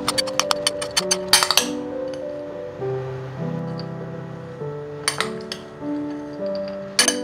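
Ingredients including organic jaggery powder, grated coconut and mango being mixed in a bowl, with sharp clinks of a spoon against the dish among quieter stirring, while music plays underneath.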